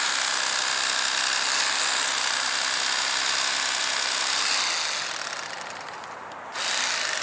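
An electric Bubba fillet knife cuts through a channel catfish: a steady, close, loud motorized buzz runs continuously, dipping briefly before resuming at full strength.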